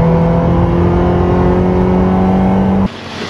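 A Ferrari 512 BBi engine roars loudly and steadily close by, its strong harmonic drone holding for nearly three seconds before cutting off abruptly into a quieter rumble.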